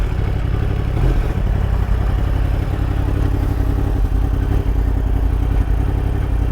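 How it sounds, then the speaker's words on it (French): A motorcycle engine runs loudly and steadily throughout, a constant close-up drone with rough low rumble and slight clatter, no voices. "La moto fait trop de bruit."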